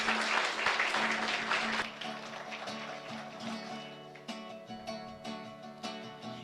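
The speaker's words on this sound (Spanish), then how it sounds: "Fuerte aplauso para todos ustedes" Congregation applause at the close of a Mass during a novena to María Auxiliadora in a chapel, a dense burst of clapping that fades after two seconds into a softer hum of sustained organ-like tones.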